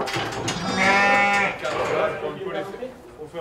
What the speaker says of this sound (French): avec un troupeau de 900 brebis